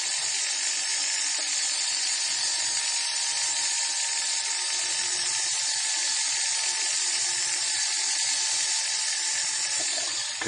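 A small rotary drill with a round burr cuts holes in wax, giving a steady high-pitched motor whine throughout with faint grinding flutter underneath and no talk.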